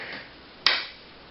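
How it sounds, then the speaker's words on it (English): A single sharp hand clap, close and crisp, ringing out once in an otherwise quiet room. "Just clap your hand."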